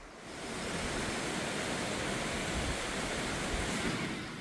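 A mountain valley stream in a national-park forest in Seorak, its small waterfalls giving a steady, loud, broadband rush of water that holds even throughout with no voices.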